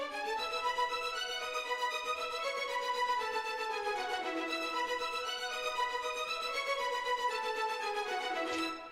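Orchestral strings alone, from a film score, sustain a smooth, layered chord passage with slowly shifting harmony, soft and continuous without piano or other instruments.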